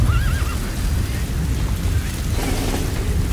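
A horse in the Metal Gear Solid V: The Phantom Pain game whinnies near and loud at the start, over a dense low rumble of game ambience that runs throughout.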